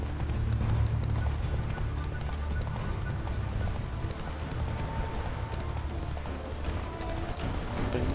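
Roach, the horse in The Witcher 3: Wild Hunt, gallops with a continuous drumming of hooves at a steady pace, up close over a low rumbling game backdrop, with a faint whinny.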